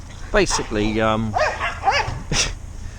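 Several dogs bark in short, loud bursts close by, with a yip and a drawn-out whining howl in the middle, and a voice speaks briefly over them.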